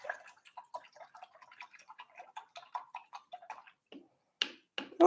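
A paintbrush rinsed in a jar of water during an acrylic painting session, giving a quick run of light ticking, clinking and dripping taps, followed by a few louder splashes and knocks at the end.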